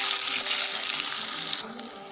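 Eggs fry in a pan for egg curry, a bright steady sizzle that drops away abruptly near the end, leaving a quieter crackle.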